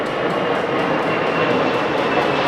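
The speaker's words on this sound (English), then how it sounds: "Yes, there is an aeroplane that you can hear." A loud, steady broadband roar of an aeroplane flying near Naples airport, continuous and unbroken throughout, with no talk over it.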